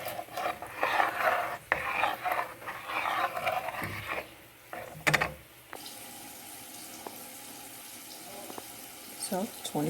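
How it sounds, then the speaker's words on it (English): Zatarain's dirty rice mix is being stirred with three cups of water in an oiled pan, giving irregular scraping, sloshing bursts up close before settling into a quieter simmering hiss. "and I'm going to stir."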